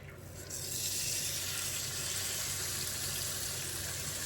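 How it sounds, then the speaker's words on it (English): Bacon slices sizzle on a George Foreman grill, a steady, fairly loud crackling hiss that swells in after a quieter first half second and holds evenly over a low background hum. "Now let's put some more bacon on."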